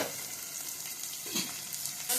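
Plenty of onions sauté in a pan for a squid thokku, giving a close, steady sizzle with light stirring scrapes, a brief louder scrape near the end, and no voices.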